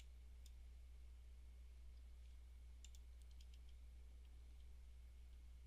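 Faint, close computer mouse clicks, a single click followed a couple of seconds later by a short cluster of clicks, over a steady low electrical hum in an otherwise quiet room.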